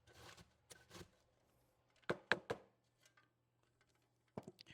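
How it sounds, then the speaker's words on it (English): Cabbage chopped for coleslaw with a knife on a board, a few sparse crisp cuts followed by a quick burst of three sharp chops, then two more near the end, close and quiet. "this is being chopped with my knife"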